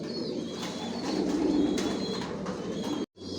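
Steady low cooing from a loft of resting racing pigeon breeders, several birds overlapping close by, with occasional faint chirps before a brief dropout near the end.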